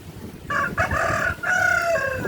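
A pet hen gives a run of drawn-out, rising and falling clucking calls, close and fairly loud, with brief breaks between them.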